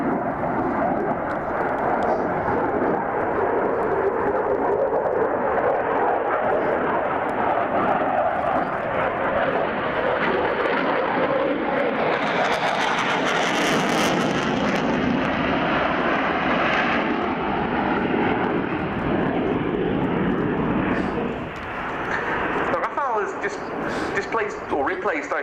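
A Dassault Rafale fighter jet roars past at an air show, loud and continuous with a rising, howling engine note, while a commentator talks throughout.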